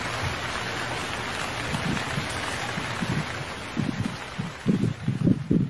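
Rain falls in a steady, wind-blown hiss, with soft low thumps and gusts growing stronger toward the end; no one speaks.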